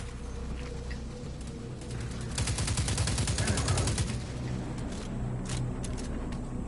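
Automatic weapon fire in the Destiny 2 beta: after a couple of seconds of ambient game noise, a loud rapid burst of shots rattles for about a second and a half, then fades back into background sounds and scattered distant effects.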